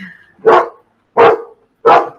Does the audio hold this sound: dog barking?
yes